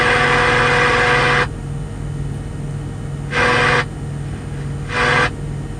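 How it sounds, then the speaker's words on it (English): A freezer running inside a parked truck gives a steady mechanical hum with a loud broadband whir that cuts in and out three times, close and continuous. "Yeah, that noise is my freezer"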